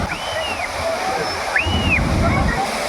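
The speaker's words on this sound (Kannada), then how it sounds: "ಅಲ್ಲಿಂತ್ರ ಈ ಕಡೆಗೆ ಈ ಧರ್ಮಾ ನದಿ ಹರಿದು ಬರ್ತೈತಿ" The Dharma river roars steadily over a dam nearby, a broad continuous flow, with a few faint bird chirps above it.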